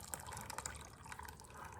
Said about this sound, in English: we're gonna pour in the elderberry concoction